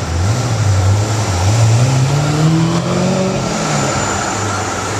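A black Ferrari Testarossa passes by and accelerates, its loud engine note climbing steadily in pitch as it goes, close and strong throughout with no talk over it.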